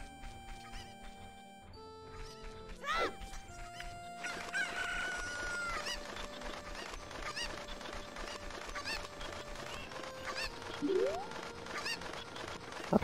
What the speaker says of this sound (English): Apparently I can't talk to people while carrying a chicken. I mean, I guess they are making a ton of fuss.